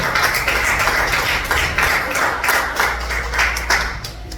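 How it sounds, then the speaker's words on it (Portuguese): A church congregation claps steadily and loudly together, a dense continuous rhythm of many hands filling the whole stretch, with no talking over it. "Aplauda o Senhor. Aplauda, porque Ele é seu Pai."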